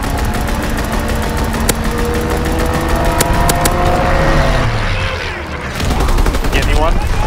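A fighter plane strafes in Call of Duty WWII: loud, rapid machine-gun bursts and sharp cracks over a roaring engine drone that swells, dips, then returns.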